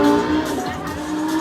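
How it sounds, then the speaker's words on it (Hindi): A car fitted with a titanium racing exhaust system gives a loud, sustained engine drone with shifting tone, close by and continuous for the whole moment. "Racing exhaust system."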